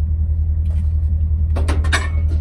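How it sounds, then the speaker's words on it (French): A parked truck's engine idles with a steady, close low rumble throughout, broken by a brief burst of clatter near the end; no one speaks. "le camion il est démarré là"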